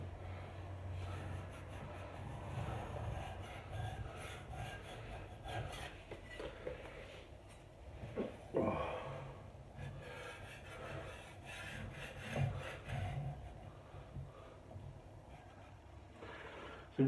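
A wooden dining table top being scraped by hand, a steady rasping scrape with a few louder strokes, close and continuous with no talking.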